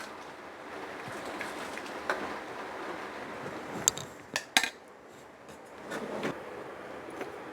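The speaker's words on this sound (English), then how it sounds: "Now this should be fried for 5 to 10 minutes with continuous stirring, mixing like this because it shouldn't stick to the pan." Indian style pasta mixture is stirred and fried in a pan, a soft sizzle under clattering metal scrapes and a few sharp knocks of the spoon against the pan.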